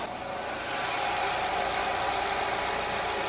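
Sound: 2017 imported sedan engine idling with hood open

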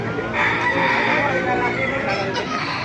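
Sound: chickens and rooster crowing

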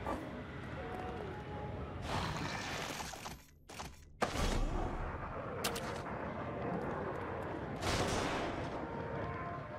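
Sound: gunshots in video game The Evil Within

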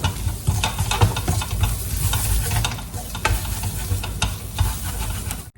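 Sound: sautéing spice masala powders in a pan for tapioca beef biryani

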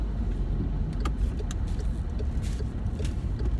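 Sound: pickup truck pulling in close on the road

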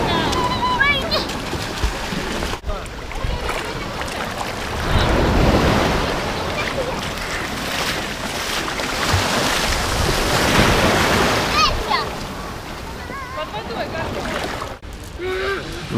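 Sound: sea waves in light storm

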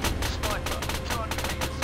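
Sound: gunfire in the video game ArmA III

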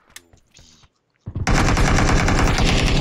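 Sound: rifle gunfire in a video game

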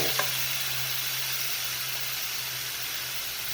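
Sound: pork liver added to pan, sizzling while frying

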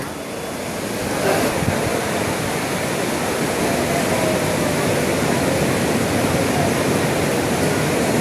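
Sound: heavy rain on Digha sea beach

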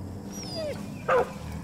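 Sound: dog barking in the video game Far Cry 5

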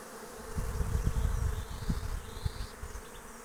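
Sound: honey bees flying at hive during acacia honey flow

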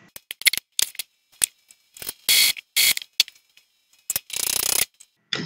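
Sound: Epson printer running head cleaning cycle

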